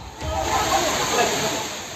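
Floodwater rushes steadily through a fruit and vegetable market in Rangareddy, Telangana after heavy rain, a loud, continuous hissing surge.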